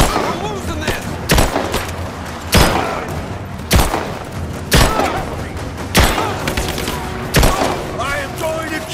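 Gunfire in the video game Rise of the Tomb Raider: loud, sharp shots and bursts repeating roughly every second, close and punchy, with a low rumble and background combat noise between them.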